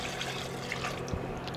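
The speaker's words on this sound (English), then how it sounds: "into there we need to add about 600 mils of water" Water being poured into a pan of butter chicken sauce in a kitchen, a soft, close, continuous trickle and splash that stays fairly quiet for under two seconds.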